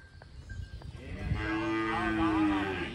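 A cow moos once, a long, low, drawn-out call that rises and holds near the recorder, preceded by a few faint clicks and rustles in a quiet rural setting.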